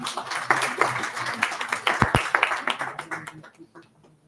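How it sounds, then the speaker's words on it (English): Audience applause at an industry-institution summit panel event, a steady crowd clapping that swells and then tapers off to quiet by the end. "A huge round of applause for sir."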